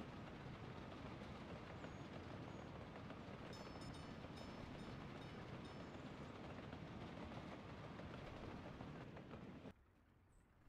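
A metro train running in the Soviet Republic city-building game Workers & Resources, a steady dense rumbling roar throughout with faint clicks, cutting abruptly to near quiet at the end.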